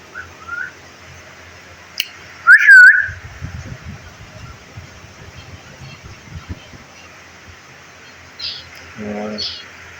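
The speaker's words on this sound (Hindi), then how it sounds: "ये मीना पीछे से आवाज़ें दे रही है" A common myna in a bird enclosure gives a few scattered whistles and chirps, fairly near but intermittent over low background noise, with brief bursts of other sound between calls.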